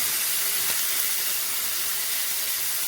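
Marinated lamb chops cooking in an ordinary non-cast-iron pan, giving a loud, even sizzling hiss that holds steady throughout, with no talk.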